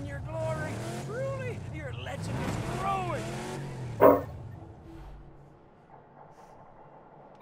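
Car engine from a racing video game, a steady revving drone with rising and falling pitch sweeps, a sharp impact near the middle, then quieter engine hum.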